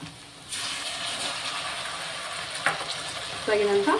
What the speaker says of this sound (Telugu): అల్లం వెల్లుల్లి పేస్ట్ వేసుకోవాలి. కొద్దిగా పచ్చివాసన పోయేంత వరకు బాగా మంచిగా వేపాలన్నమాట